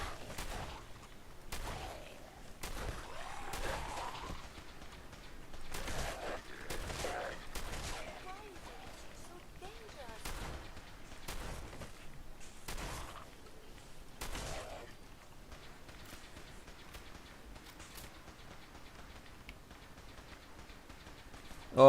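Gunfire with heavy recoil in Fallout 4 cracks in quick, irregular bursts of sharp shots over about fifteen seconds, fairly faint, with scattered game sounds and occasional talking mixed in.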